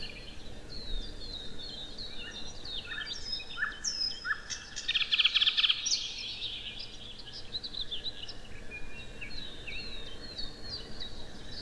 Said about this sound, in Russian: А кто поет? Поет соловей.